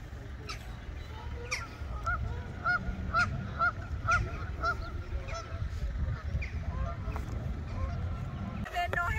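Geese and ducks at a castle pond in Wales honk repeatedly in a busy, overlapping chorus, with steady honks close by over a low background rumble.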